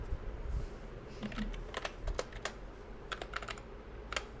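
Rapid keystrokes on a computer keyboard as an address is typed into a web browser, with a quick, uneven run of close, crisp clicks and brief pauses between bursts over a low background hum.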